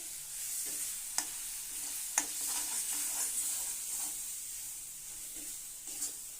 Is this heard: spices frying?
yes